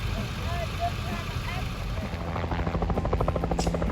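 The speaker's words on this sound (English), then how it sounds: "here is where the helicopter was taking off and leaving" A helicopter lifts off and flies away after an ambulance call, its steady engine roar swelling into a loud, rhythmic blade chop over the last couple of seconds, with faint voices underneath.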